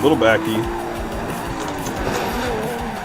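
Car engine revving with tyres squealing while drifting in the racing game Assetto Corsa, engine pitch rising and falling through gear changes, with someone talking over it.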